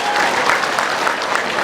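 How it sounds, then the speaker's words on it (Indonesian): Audience at a Minangkabau language and literature curriculum launch event applauds steadily, a dense, even wash of clapping from a crowd throughout. "Tepuk tangan untuk semua dulu."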